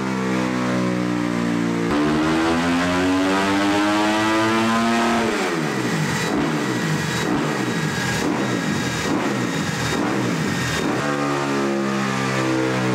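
A Kawasaki KXF 250 motorcycle on a dyno, fitted with an HGS exhaust line and GET ECU, revving hard to 14,500 rpm; loud, close, rising engine scream with a brief drop and climb midway, then climbing again.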